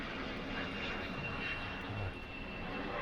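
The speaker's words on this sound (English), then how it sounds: "Planes taking off from Gabreski Airport," A fixed-wing airplane takes off from Gabreski Airport, Suffolk County Airport, on Long Island, its engine a steady broadband roar that holds constant and fairly loud throughout, with no voices.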